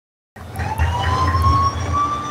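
A police siren in the racing game Forza Horizon 4 starts abruptly after a moment of silence, then sustains a loud, steady wail with a slowly rising tone over a low engine rumble.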